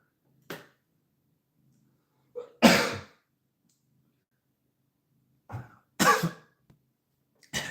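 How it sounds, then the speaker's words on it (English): Several short, sharp coughs in a quiet room, coming in separate bursts a couple of seconds apart, close to the listener. "Gosh, I just swallowed air weird. That's why I coughed."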